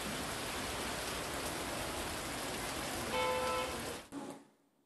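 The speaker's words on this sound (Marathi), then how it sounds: "रात्रभर काही ठिकाणी पावसानं जोरदार हजेरी लावली होती, तर काही ठिकाणी पावसाची संततधार सुरूच आहे" Steady rain falls as an even, dense hiss that continues unbroken, then cuts out abruptly near the end, with no voices over it.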